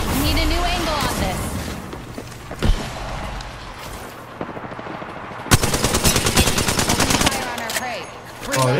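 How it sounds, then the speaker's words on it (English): Automatic weapon fire in the Apex Legends battle royale game, with rapid rattling bursts and single sharp shots, loud and close, a long sustained burst near the end, under a player's excited talk. "Getting shot at."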